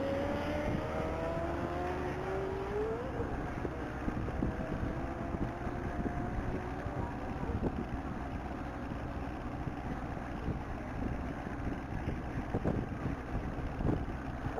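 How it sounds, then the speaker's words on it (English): A 2008 Chevrolet Corvette accelerating flat out on a Texas Mile top speed run, its engine a steady, sustained roar with a rising whine early on, heard from a distance. "That's David Dukowski on his 2008 Chevrolet Corvette."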